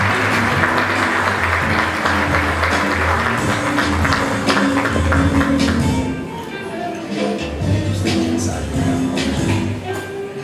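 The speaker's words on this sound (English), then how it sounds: "Let's give them a round of applause." Audience clapping at an awards ceremony during a masquerade ball, sustained applause over a bed of music, easing slightly in loudness partway through before continuing.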